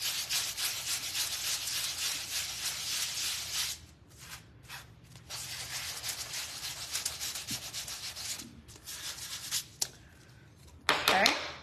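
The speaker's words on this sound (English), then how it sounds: "I'm gonna go ahead and sand this because I feel like it's pretty dry now" Close, rhythmic scratchy strokes of sanding on a wooden patriotic bow door hanger, continuing with a couple of short pauses and ending in a brief louder scrape.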